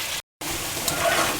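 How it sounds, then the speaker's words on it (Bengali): Potatoes rubbed with salt and turmeric frying in hot oil until reddish-brown, a steady close sizzle broken by a brief silent gap near the start. "আমি আগে আলুগুলো লাল লাল করে ভেজে নিই।"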